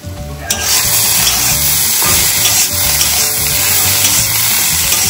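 Bitter gourd frying in a pan gives a loud, steady sizzle throughout, with stirring scrapes mixed in and no voices.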